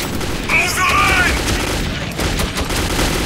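Dense gunfire in the Metro 2033 video game, loud, continuous rattling bursts close by with a few sharper shots, filling the whole moment without pause.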